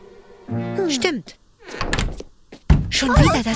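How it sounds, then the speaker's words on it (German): Knocking on a door in a children's animated story, a few hollow thumps set among speaking voices and light music. "Schon wieder das Klopfen."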